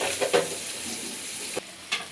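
Turnip pieces drop into a hot pan and begin frying while a hilsa curry is being cooked, giving a bright, close sizzle with a couple of sharp splashy bursts as they land.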